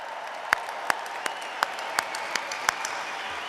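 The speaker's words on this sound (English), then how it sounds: "How about another really loud round of applause for our 2020 graduates?" Crowd applause at a university graduation ceremony, steady clapping from many hands with a few sharper claps standing out, fairly loud and close.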